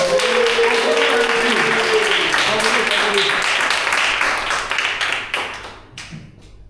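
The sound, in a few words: audience applause at a Toastmasters meeting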